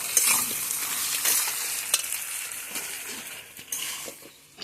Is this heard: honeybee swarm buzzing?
no